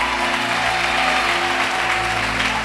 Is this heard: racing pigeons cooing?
no